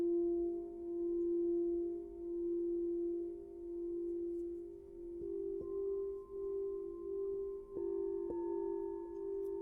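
Magnetic singing bowl struck very softly, a pure steady hum that swells and pulses gently, with a few faint light taps adding shimmering overtones, close and calm.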